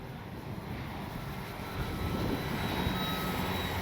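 An E-flite Piper Cherokee RC airplane on a 4S battery flies in strong gusty wind, its electric motor a faint distant drone that swells slightly, mixed with wind noise buffeting the microphone.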